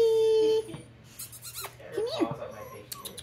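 Pit bull terrier puppy whimpering and squeaking in short high whines close by, following a steady tone at the start, with a few brief sounds in between.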